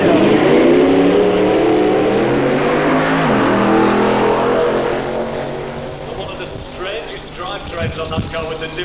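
A Chevrolet Camaro drag race car at the 1993 Goodguys UK Shootout at Avon Park accelerates with a loud, sustained engine roar that fades slightly toward the end, under a commentator's steady talk.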